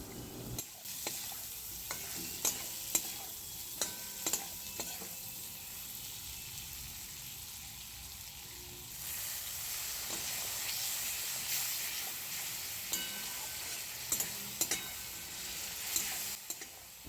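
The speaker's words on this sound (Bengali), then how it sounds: "সামান্য একটু জল দিয়ে মশলাটা ভালো করে কষিয়ে নেওয়া হচ্ছে।" Ground spices with a little water and Kashmiri red chilli powder sizzling and frying in a pan, with soft continuous sizzle and repeated scraping stirs of a spoon, the sizzle swelling louder in the latter half.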